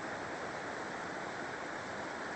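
A mountain river in the Andes cordillera near El Bolsón rushes between giant rocks, giving a dense, constant roar of broadband water noise with no breaks and no voices.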